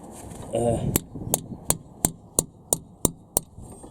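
A series of eight sharp metallic hammer strikes on a wrench loosening a rear brake caliper bolt on a Mini Cooper S R53, evenly spaced about a third of a second apart, ringing briefly after each hit.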